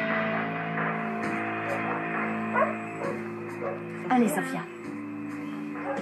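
A frightened mixed-breed female shelter dog, two or three years old, whimpers and gives short yips and barks, while someone speaks in French over the sounds.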